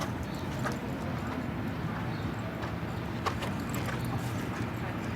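Rhythmic clip-clop of horse hooves at the Rolex Kentucky Three Day Event, over a steady background rumble, the beats even and moderately close.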